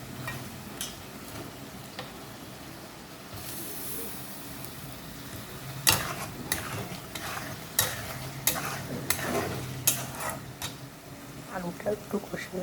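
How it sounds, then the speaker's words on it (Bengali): Potatoes tipped into fried masala for a katla fish curry and stirred in a pan: a low sizzle, then a sudden clatter and a run of close spatula scrapes with a voice talking throughout. "মশলাটা কষানো হয়ে গেছে, এর মধ্যে আলুগুলো দিয়ে দেবো।"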